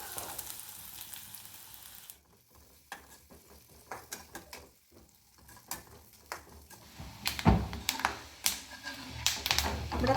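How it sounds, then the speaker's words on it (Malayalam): Chopped coconut sizzles in hot ghee in a pan, a steady crackle broken by scattered clicks and scrapes of stirring, growing busier and louder toward the end. "ഇതിലേക്ക് നമുക്ക് അരിഞ്ഞു വെച്ചിരിക്കുന്ന തേങ്ങ ഇട്ട് കൊടുക്കാം."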